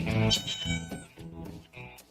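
A cat meows several times in a short run of drawn-out, fairly loud calls set against a commercial spot for a business in Prattville, with a faint voice underneath.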